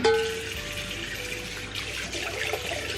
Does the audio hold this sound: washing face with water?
yes